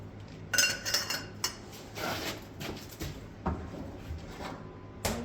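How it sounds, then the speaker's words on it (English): Metal clinks and scrapes as a 1-inch socket is slid onto the axle nut of a Farmall H tractor loader, a few sharp taps and rattles spread across the stretch, close and fairly quiet. "So just take the 1-inch socket, I suppose, and slide it on there."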